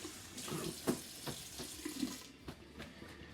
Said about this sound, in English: Give it a quick wash off with cold tap water.